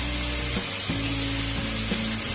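Chopped onions hit a cup of hot oil and sizzle in a steady, close hiss, with faint stirring and a low hum underneath.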